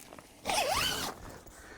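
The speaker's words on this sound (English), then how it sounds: "Open that zipper up, and then come into the little cubicle here." Zipper on a Jeep Wrangler rooftop tent being pulled open in one quick close rasping stroke lasting under a second, in an otherwise quiet setting.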